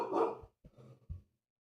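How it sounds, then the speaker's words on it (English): A dog barks indoors in three quick bursts, the first longest and loudest, then two shorter barks close by, with silence after. "Dog's barking early today."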